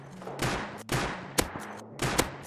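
Gunfire in the Rust survival video game, a rapid series of sharp, loud shots in uneven bursts, some paired close together, over a low ambient background.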